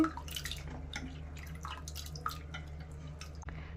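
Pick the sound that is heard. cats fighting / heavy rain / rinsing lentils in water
rinsing lentils in water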